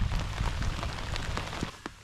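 Rain falls steadily outdoors beside a river during fly fishing, a dense patter of drops with a few sharper splashes, continuous for about two seconds with no voices.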